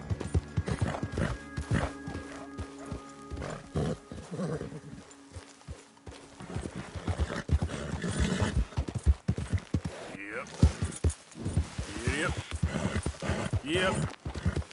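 Horse hooves clip-clop at a gallop in the Red Dead video game, a rhythmic drumming of footfalls with an occasional whinny, while a voice talks to the horse over the top.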